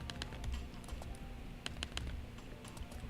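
Typing on a computer keyboard, quiet clusters of quick key clicks in irregular bursts with short pauses, close and soft against faint background noise.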